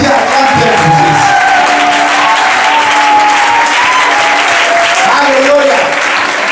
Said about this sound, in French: Acclame Dieu pour Jésus